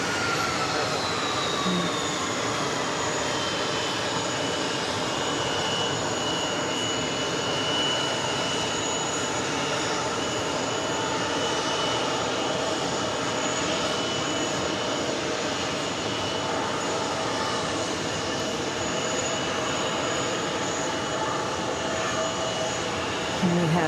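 A CRJ regional jet passes loudly at New York JFK airport, a steady broadband engine roar with a high whine that holds at near-constant strength throughout, with no talking.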